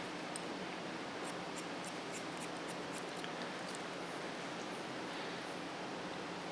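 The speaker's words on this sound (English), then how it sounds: "cut off the hair." Scissors snip through hair in a salon, a quick run of light, crisp clicks close by over a soft steady hiss, then a few more scattered snips.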